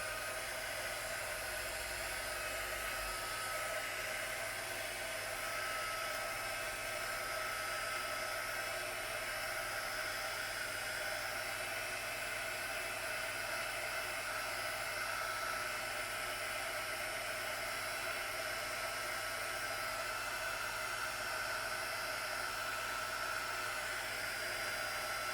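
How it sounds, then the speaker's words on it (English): A heat gun set to low, used on paint on canvas, gives a steady, constant airy blowing hiss with an even motor drone that stays unchanged throughout, close up and with no speech. "So just going to turn this heat gun on low."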